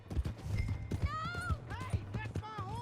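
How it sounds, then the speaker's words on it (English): In Red Dead Redemption 2, a horse's hooves clip-clop steadily while it whinnies several times with wavering neighs, amid game voices speaking over the action. "Hey, that's my horse!"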